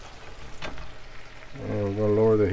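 About six tablespoons of butter melting and sizzling in a hot pan for shrimp scampi, a steady soft frying hiss that runs throughout while a voice talks over the latter half.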